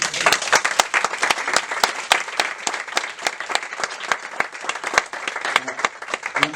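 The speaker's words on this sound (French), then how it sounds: "je pense que vous pouvez déjà vous applaudir" An audience applauding at the inauguration of a community garden, a dense, steady burst of many hands clapping close up, continuous throughout with no clear speech over it.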